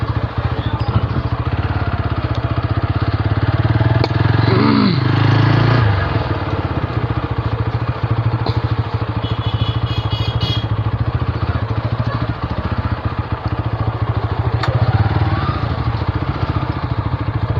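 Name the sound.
motorcycle engine running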